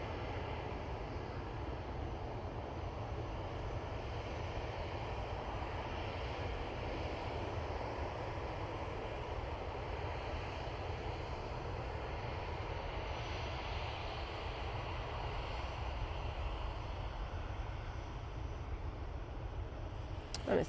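Boeing 787 Dreamliner in Juneyao's Peony livery arriving from Shanghai at Manchester Airport, a steady broadband jet roar that holds at an even level throughout, heard from a distance with no talk.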